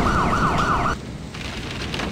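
Police siren wailing in a fast rising-and-falling sweep under loud background noise, cutting off abruptly after about a second, followed by a lower steady rumble.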